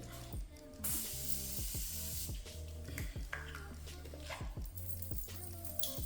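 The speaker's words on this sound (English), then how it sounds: "I set first with my Morphe setting spray." A hissing burst of Morphe makeup setting spray stands out near the start, with soft rhythmic thumps and clicks continuing underneath.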